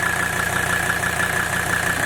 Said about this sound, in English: It's perfectly dry engine is running excellent.